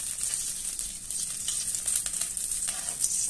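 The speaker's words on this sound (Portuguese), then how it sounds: "E nessa panela, tô colocando aqui um pouquinho de banha." Lard sizzles steadily in a frying pan on a home stove, a constant close hiss with small crackles and no talking over it.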